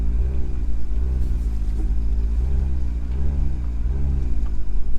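A dual-clutch Acura NSX drives along with a steady low engine rumble, its pitch rising and falling gently with the throttle. The drone stays close and continuous throughout, with no talk.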